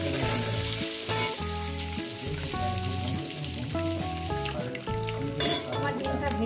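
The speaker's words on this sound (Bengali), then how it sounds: "ডিমটা এইভাবে ভেজে নেব, একটু কড়া ভাজবো না" Eggs frying in hot oil in a pan, a continuous crackling sizzle heard close and steady beneath a layer of tonal background music, with no talking.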